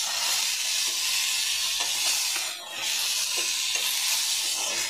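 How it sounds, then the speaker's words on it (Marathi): Eggplant and potato pieces sizzle steadily in hot oil while being stirred and turned in the pan, a loud, continuous frying hiss with soft scraping strokes, no voices. "असे तेलावर परतून घ्या सगळं."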